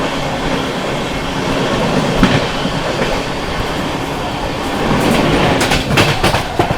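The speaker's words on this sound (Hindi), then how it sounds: "Darbhanga Amritsar Jannayak express overtake." Near Rajpura Junction, the Darbhanga Amritsar Jannayak Express passes alongside and overtakes, heard from aboard another train. A loud, continuous rumble of rolling rail wheels carries rhythmic clickety-clack and a few sharp metallic clanks.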